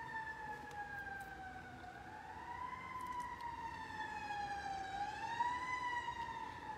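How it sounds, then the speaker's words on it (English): A fire truck siren wails through a downtown area, its tone rising and falling in slow sweeps. It sounds fairly distant and steady, with faint traffic rumble underneath. "Sounds like somebody is in need of a fire truck."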